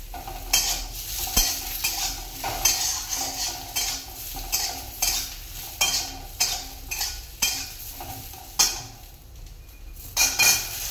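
Chunks of potato, eggplant, taro and radish drop into a hot oiled pan and are stirred with a metal spatula, scraping and clinking in a steady rhythm over continuous loud sizzling.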